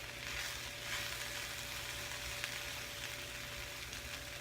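Spinach frying in a small, crowded pan over medium-high heat, giving a steady, close hiss and crackle that runs unbroken with faint stirring scrapes and a low hum beneath.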